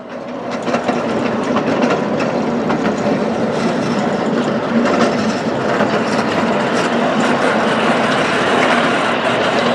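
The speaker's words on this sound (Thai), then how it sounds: "ด้วยขบวนรถไฟ นีฮะที่มีความเร็วไม่เร็วมากนักนะฮะ" An electric train running slowly across a rice field cafe in Pathum Thani, its wheels clattering steadily over the rails in a continuous close rumble with no voices.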